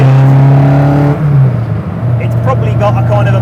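A Ford Escort Mk1 rally car engine revs hard while driving, a loud, buzzing, high-revving note with a gear change, heard up close with a voice talking over it.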